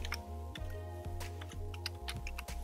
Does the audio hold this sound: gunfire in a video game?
no